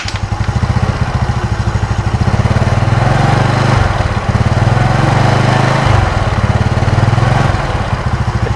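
Yamaha Mio Sporty scooter with a carburetor and original 5TL CDI, engine running loud and close with a rapid putter, revving up and dropping back in repeated surges.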